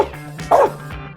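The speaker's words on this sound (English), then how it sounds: "A dog barking." A single dog bark with a short yelping pitch, close and fairly loud over a low steady hum, played as one of a series of sound clips in a school listening game.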